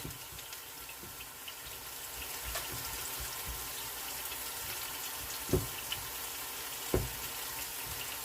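Onions and mushrooms sauteing in a pan give a steady, quiet sizzle with a soft watery hiss, marked by a couple of brief clicks near the end and no talking.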